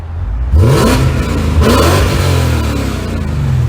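A 2003 BMW M5's engine revs hard and loud up close, the exhaust rising in a growl, then holding a deep, steady drone.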